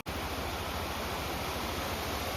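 A small river near Cheruthoni dam, swollen with rain, rushing in a constant dense hiss of flowing water, steady and unbroken from start to finish.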